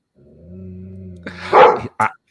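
A dog whines in a long drawn-out tone, then gives a loud close bark followed by a second short sharp bark.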